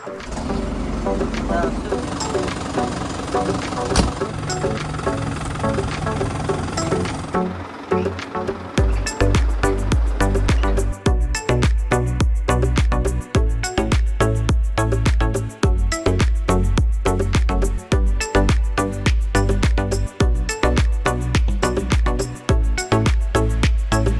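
Tractor pulling a seed drill across a field in post-harvest sowing, a continuous loud engine drone with rhythmic clanking and knocking from the machinery, someone talking over it.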